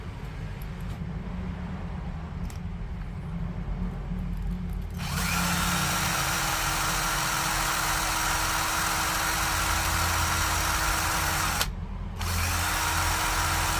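A cordless drill, running on a repaired battery pack, whirs steadily at high speed for several seconds, stops briefly, then spins up again, loud and close.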